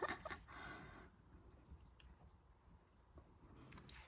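A fountain pen writing with Diamine ink on paper, a very faint, close scratching that comes in short strokes.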